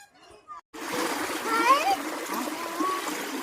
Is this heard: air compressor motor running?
no